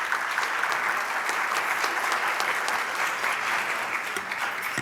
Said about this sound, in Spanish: Un fuerte aplauso para Jonathan.